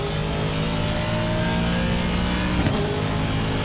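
Race car engine in Assetto Corsa Competizione at Imola, a steady loud drone holding a sustained rev under throttle for the whole stretch, with a brief shift in pitch near the end.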